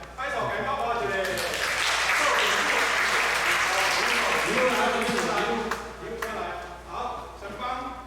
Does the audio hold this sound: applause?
yes